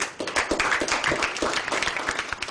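Audience applause during a public political speech, a dense continuous wash of many hands clapping at steady loudness for a few seconds, with no voice over it.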